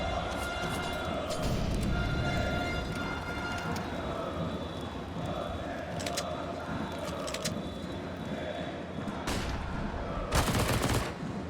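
Pistol gunfire in a Counter-Strike: Global Offensive pistol round at a professional Major match, rapid bursts of shots cracking over game ambience, with a couple of loud sharp volleys near the end.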